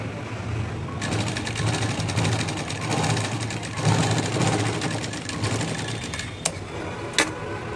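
A sewing machine stitches the front part of a blouse, its needle running in a fast, steady close whir that starts after a moment and keeps going, then ends with a couple of sharp clicks.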